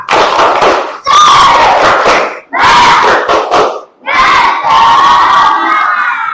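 A group of children shouts a "tepuk semangat" clapping chant in loud unison bursts with short pauses between phrases, close and energetic, with claps mixed in, in an Islamic religious education classroom lesson.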